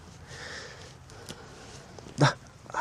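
A Belgian Malinois puppy gives a single short, sharp yelp or whimper near the end, over faint background rustle and sniffing.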